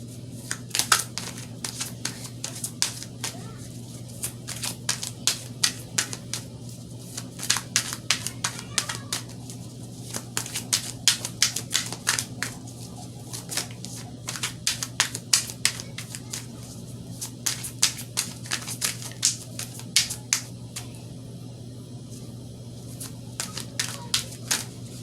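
Tarot cards shuffled and drawn: steady rapid riffling and flicking clicks that pause briefly every few seconds, close and fairly loud over a constant low hum, with no speech.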